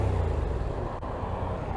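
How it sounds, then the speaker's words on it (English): A Yamaha XSR700 motorcycle engine revs up and settles, giving a steady, fairly loud engine drone with a single short blip about halfway through, heard on its own without speech. "It does sound nice when you give the bike a rev."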